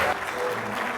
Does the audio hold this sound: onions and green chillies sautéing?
no